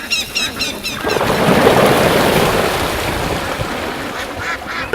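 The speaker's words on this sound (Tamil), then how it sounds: "இது வாத்து கூட்டம்." A flock of ducks quacks in rapid, dense bursts at the start and end, with a loud, wide rushing wash of sound in between.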